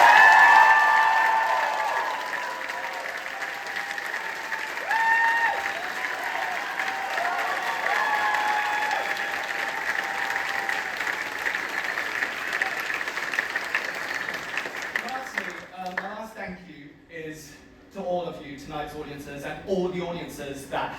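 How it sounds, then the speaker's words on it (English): A theatre audience applauds at a final curtain call, a dense wall of clapping that swells and fades slowly before giving way to someone talking over the thinning applause near the end. "So give yourselves a big round of applause."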